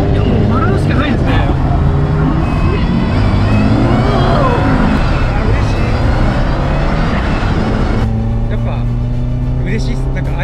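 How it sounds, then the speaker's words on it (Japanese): A rally car being driven in a time attack, its engine droning loudly and continuously throughout with shifting pitch, plus wind and road noise and voices mixed in. "土屋さんに今から運転していただきまして"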